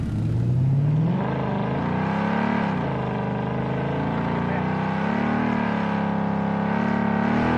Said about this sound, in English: Get into my car and drive away.